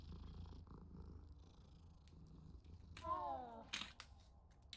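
A cat purrs softly and steadily while being petted, the low rumble faint and close, with a few brief louder cries or squeaks toward the end.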